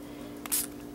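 A single short hiss comes from a pump bottle of Tulip fabric spray paint, a quick close spritz against a quiet background.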